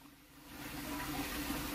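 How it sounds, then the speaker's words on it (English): Half a cup of water poured into a crock pot holding chicken, taco seasoning and cream cheese, a steady low liquid splash that builds slightly and runs alone without talk. "add half a cup of water."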